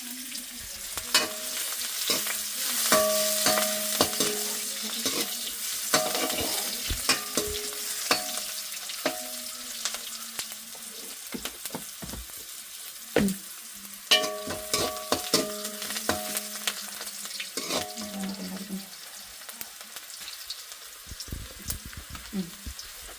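A spoon stirs and scrapes through grated coconut mixed with salt and turmeric in a cooking pan, making a steady close scraping and rustling sound with soft sizzle-like texture and occasional clinks against the pan.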